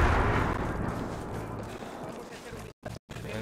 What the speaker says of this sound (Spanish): Y encima ruidos y todo de explosión